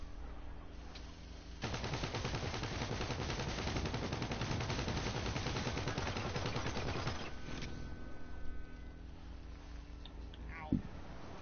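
Sustained burst of rapid automatic gunfire in GTA V, a dense machine-gun-like rattle lasting several seconds, then scattered single shots and a sharp bang, with voices talking before and after.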